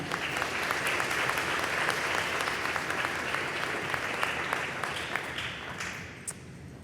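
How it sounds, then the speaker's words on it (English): Eighth-grade graduates at their promotion ceremony applaud in a sustained, dense burst of many hands, with a few sharper individual claps standing out as the ovation thins near the end. "Give yourselves a round of applause."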